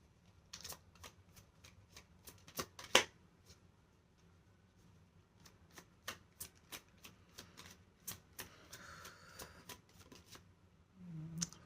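Tarot cards are shuffled by hand in quiet, soft crisp riffles and sharp flicks arriving in uneven bursts, with one louder snap partway through and no voices.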